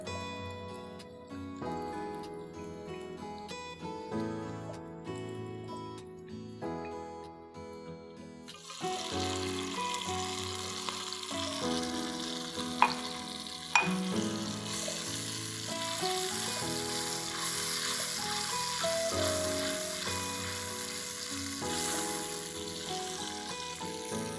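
Ginger and garlic fry in a pan for a chicken bites recipe, a steady sizzle that grows louder partway through, with faint stirring and a couple of clinks.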